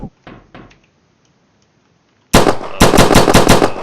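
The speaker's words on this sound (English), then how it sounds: "This weapon here is a fully automatic SMG." A fully automatic SMG in a video game fires a rapid burst of loud shots after a few earlier single clicks and a short quiet gap.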